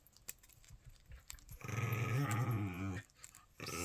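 Dogs growl indoors: a sustained, close, rumbling growl lasting over a second, with scattered clicks and small noises before and after.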